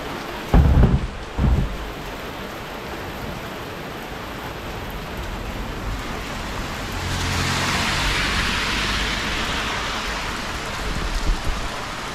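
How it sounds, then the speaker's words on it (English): Rain falls outdoors: a few low thumps at first, then a broad, steady hiss that swells to a heavier downpour through the second half, with no talking. "Here comes the rain again, falling on my head like a memory"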